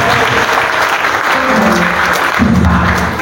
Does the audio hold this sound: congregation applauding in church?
yes